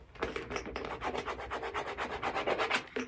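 Canvas material on a designer-inspired handbag is rubbed by hand, giving a close, rhythmic scratchy rustle made of quick repeated strokes.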